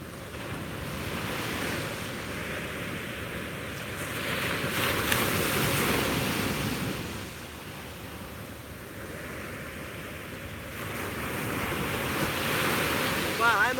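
Ocean waves washing onto a beach at sunrise, a continuous surging roar that swells and recedes in slow cycles, with wind buffeting the microphone.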